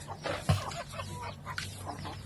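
Chickens clucking close by, a few soft, short calls scattered over a steady low background hum.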